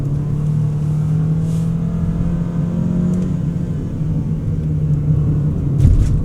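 A GWM WEY G9 MPV accelerates on the road, a steady low engine hum and drone rising gently in pitch, with tyre and road rumble underneath and a brief bump near the end.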